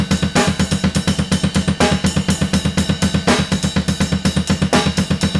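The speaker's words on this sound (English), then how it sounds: "when you throw that over the double bass pattern, it sounds like this" Drum kit with a steady double bass drum pattern and extra right-foot kick hits layered over it, played at a slower speed. The kicks are loud and dense and come in continuous even pulses, with cymbal accents, and there is no talk.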